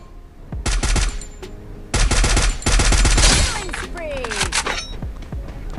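Loud bursts of AK rifle gunfire in the mobile battle royale game Free Fire, with rapid automatic volleys separated by short pauses and scattered single shots, plus whooshing effects near the end.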